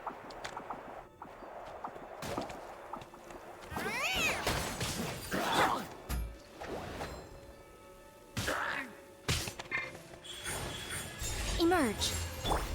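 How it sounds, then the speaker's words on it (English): A cat meows within the video game Genshin Impact, several short rising-and-falling cries standing out over game music and effects, with a person talking throughout. "Meow."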